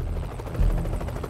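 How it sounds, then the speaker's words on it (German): A military helicopter lifting off, loud close rotor thumping and turbine roar with a brief surge of low rumble partway through. "Dann hebt der erste Hubschrauber ab mit Bin Ladens Leiche"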